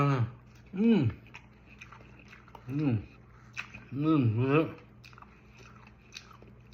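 Fresh backyard vegetables are chewed close to the mic in a few crunchy bites, with someone speaking between and over the mouthfuls.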